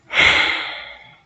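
A single long exhale during a gentle yoga session, breathy and close, swelling quickly then fading slowly over about a second, alone without talk.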